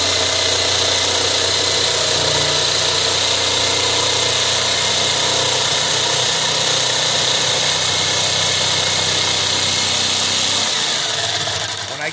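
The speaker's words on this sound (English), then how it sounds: "This saw will pull itself right along as you cut." Jigsaw cutting through a board, a loud, close and continuous motorized buzz held steady for about eleven seconds, easing off at the very end.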